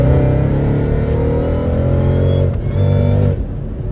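A modified 640 hp Mercedes E55 AMG accelerates hard through the gears on a wet road, a loud rising engine note inside the cabin with a clear shift drop near the end.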